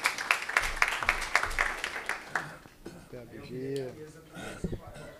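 Audience applause at a climate emergency committee hearing, a burst of clapping for about two seconds that fades into someone speaking.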